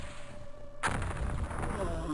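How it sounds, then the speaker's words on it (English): A large rocket blows up in the 1994 strategy game UFO: Enemy Unknown, with a sudden loud, rumbling blast that holds as a broad roar after a quieter stretch of game background. "Look at the size of that explosion."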